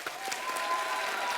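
A television studio audience at a comedy talk show breaks into brief, even applause, a dense wash of many hands clapping at moderate volume with no voices over it.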